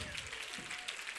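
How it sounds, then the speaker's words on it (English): An audience applauds speakers gathered on stage at the Aspen Brain Lab 2016 session, a soft, dense, continuous patter of many hands, distant and faint, with some voices mixed in. "Let's give them a round of applause just for a second here."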